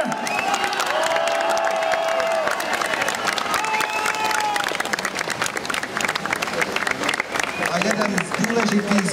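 A room full of people claps loudly and steadily at a press conference honouring a seven-time Formula One world champion, with scattered cheers and crowd murmur throughout.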